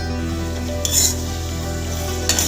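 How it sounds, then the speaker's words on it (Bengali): Goat liver being stirred in a pan with salt, turmeric, chilli powder and cumin, sizzling steadily throughout with two brief scraping stirs of a utensil against the pan, close and with no talk. "লবণ হলুদ গুঁড়ো লঙ্কা গুঁড়ো আর জিরে গুঁড়ো ভালোভাবে মিক্স করে নেব"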